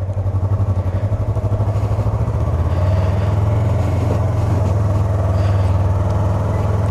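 A brand-new Yamaha YZF R3 motorcycle engine runs close by, a steady throbbing idle with a pulsing low rumble that smooths slightly as it holds a constant note.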